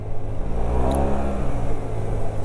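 The engine of a Yamaha T-Max 560 scooter hums steadily and fairly close, a continuous mid-pitched drone that holds throughout with only slight swells and no voices.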